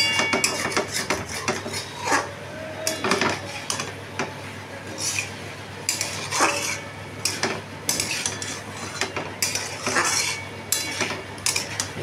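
A metal spoon scrapes and clinks against a pan while vegetable stems are stirred with a little raw mustard oil, a steady run of irregular knocks and scrapes close by with a faint low hum underneath.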